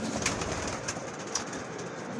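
Racing pigeons coo softly in a loft, low murmuring calls overlapping under a steady background hiss, with a few faint brief chirps and no talking.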